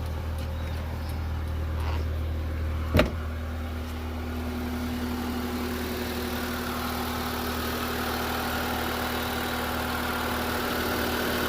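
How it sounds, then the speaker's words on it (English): A 2003 Honda Civic engine idles steadily at close range with the heater running, a constant low hum with a single sharp click early on and no talk. "start up the car and put it to the highest in the put it in heat, turn on the heat"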